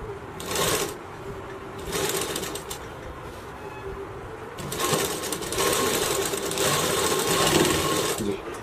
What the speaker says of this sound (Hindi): अब देखो इस सिलाई को हम फिर से इसको पूरा कर लेंगे